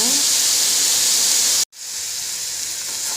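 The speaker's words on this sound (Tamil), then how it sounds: "நல்லா வதக்கி விடுங்க நல்லா மஞ்சள் கலரில் வெங்காயம் வர வரைக்கும் வதக்கிட்டே இருங்க" Small and large onions sauté in a pan with green chilies and curry leaves, giving a loud, steady hiss of sizzling oil that cuts out for a brief instant midway and then resumes.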